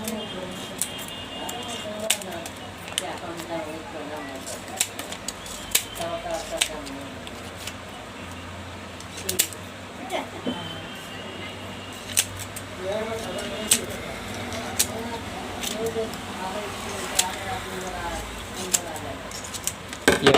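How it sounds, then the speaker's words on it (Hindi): Scissors cutting paper during hand rewinding of a ceiling fan coil, heard as repeated short snips and crisp clicks scattered throughout, close up over a steady background hum, with talking in between. "आपको कैंची से इसे काट लेना है।"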